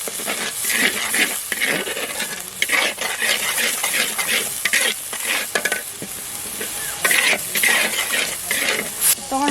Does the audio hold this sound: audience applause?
no